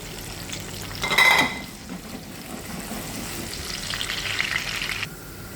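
Sliced garlic sizzles steadily in a hot pan, with a brief louder burst of frying and stirring early on, then a continuous hiss that fades near the end; no voices.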